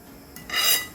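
A knife slices a thin fish cake sheet in half on a cutting board in a home kitchen, making one short scraping rasp that swells and fades within a second, close up and alone.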